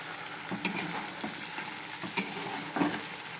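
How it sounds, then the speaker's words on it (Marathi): Onions frying to golden brown sizzle softly in a pan as tomato puree goes in for a whole masoor curry, with a few sharp spoon taps and stirring scrapes over a steady hiss and no one talking. "कांदा आपला गोल्डन रंगाचा होत आलेला आहे आपण टमॅटोची प्युरी टाकून घेऊ"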